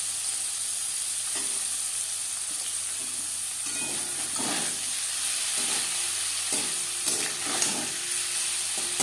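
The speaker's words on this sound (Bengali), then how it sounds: "হালকা করে ভেজে নেব।" Paneer fries lightly in a pan with salt, turmeric and a little red chili powder, making a gentle steady sizzle and hiss broken by a series of soft stirring scrapes and taps; no voice is heard.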